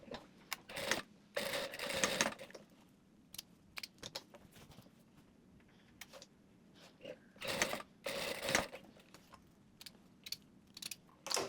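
A sewing machine stitches elastic onto a pair of shorts in several short, fast runs. Quiet pauses and light handling clicks fall between the bursts.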